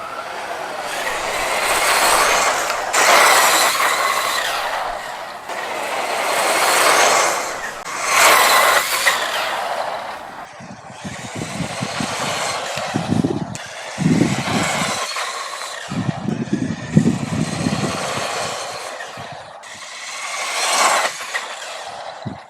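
A brushless RC buggy races on tarmac after gravel runs, its electric motor whining and surging in repeated loud passes that rise and fade, with rough rattling bursts from the tyres and chassis.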